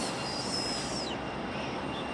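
An Alaska Airlines jet arriving on runway 5 right at Raleigh-Durham International Airport roars as a steady, broad engine rumble with a faint whine, heard from a distance outdoors.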